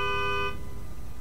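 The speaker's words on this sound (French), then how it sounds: "Est-ce que vous pouvez me faire écouter votre klaxon, s'il vous plaît?" Car horn in the racing game Forza Horizon 3 sounding one steady, bright honk for about half a second, then cutting off into low engine rumble.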